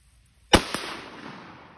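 A single sharp rifle shot from a .22 Hornet fired with iron sights at about 50–60 yards outdoors, a loud crack followed by a quick echo and a long decaying tail.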